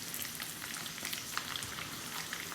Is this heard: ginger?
yes